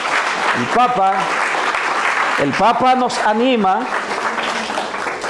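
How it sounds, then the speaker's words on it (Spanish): A church congregation applauds during a Pentecost Sunday service, a steady wash of clapping beneath someone speaking over it. "Un fuerte aplauso a las palabras del Papa."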